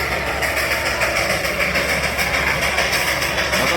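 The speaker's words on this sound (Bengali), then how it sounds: "বাতাসিয়া লুপে ট্রেন ওই নিচে থেকে" A train runs at Batasia Loop in Darjeeling, heard as a steady, moderately distant rumbling engine and rolling drone that holds evenly throughout, with no talking.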